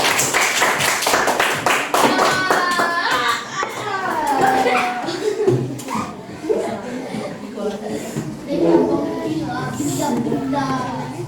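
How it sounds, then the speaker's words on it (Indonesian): A group of children in an elementary school class clap in bursts of quick, sharp claps while kids chatter and shout close by. "Tepuk tangan lah dulu temannya."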